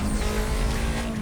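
Car engine in the racing video game Need for Speed Most Wanted, a loud, steady roar with a sustained low drone and a faint tire hiss on top, no voices.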